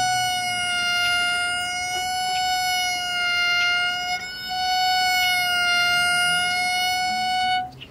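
A violin plays a sustained, steady tone with harmonics and gentle wavering vibrato, imitating an ambulance siren, with a brief break midway.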